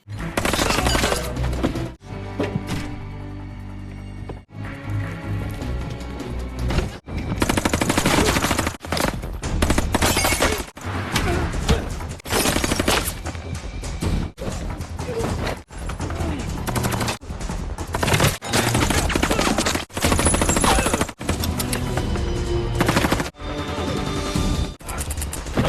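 Henchmen's gunfire in the action film Mechanic: Resurrection: loud, close bursts of automatic fire and rapid volleys, repeated in dense clusters with short pauses between them over a crashing, chaotic backdrop.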